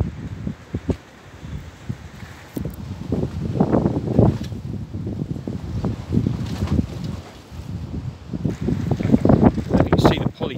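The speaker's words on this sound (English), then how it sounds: "there certainly is a little bit of wind going on" Strong wind gusting outdoors during high winds in the UK in January, a steady roar rising and falling with rustling and buffeting, heavy against the microphone for the whole stretch.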